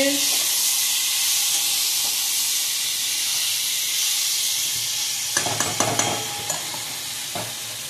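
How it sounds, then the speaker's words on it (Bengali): Bitter gourd and pumpkin frying in a pan, a steady bright hiss and sizzle that carries on throughout, with a few sharp stirring scrapes and clatters near the end. "এই পাশে করলা কুমড়ো এগুলো ভাজি ভাজি হচ্ছে"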